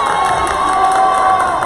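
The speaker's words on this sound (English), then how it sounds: "And he's got a cheering section right beneath us." A student section cheers loudly and continuously at a college basketball game between Central Penn Knights and Penn State York, with a dense crowd roar and high shouting voices.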